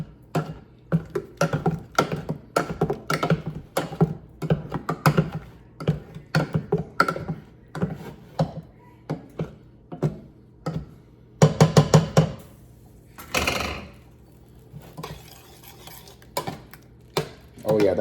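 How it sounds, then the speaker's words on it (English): A masher thumps and clanks against a pot while nectarines are mashed for homemade fruit tarts, in a fairly close, irregular run of knocks with a brief scraping stir near the middle. "use my masher and mash those nectarines down a little bit."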